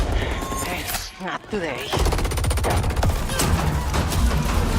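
Powerful, threatening gunfire with enhanced sound design in a video game battle, dense rapid bursts running almost throughout, loud and close, with a brief lull before the shooting resumes under a short spoken line.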